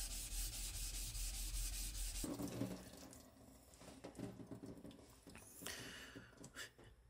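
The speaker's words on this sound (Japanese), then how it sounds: "こういう長物とか研いでる時っていうのは変形させないようにやっぱ注意しなきゃいけないんですが" A left-handed kitchen knife is stroked across a Shapton Kuromaku whetstone, giving a wet, gritty rubbing that runs continuously at first, then in shorter irregular passes, close by with no talking.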